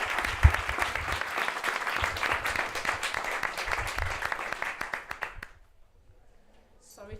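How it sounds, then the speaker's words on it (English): A live audience at a morning session on building retrofit in Knowle West, Bristol gives a dense round of clapping for about five seconds. The clapping then thins out and fades to near silence. "round of applause for everyone"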